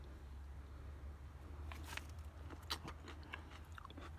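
Faint crunchy bites and chewing into a ripe garden tomato picked at the end of summer, a few soft wet crunches over a low background hum, close and quiet.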